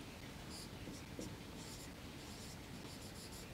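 Pen scratching on paper as a maths teacher writes out a statistics frequency table, faint and steady with brief stroke bursts, close by in a quiet room with no talking.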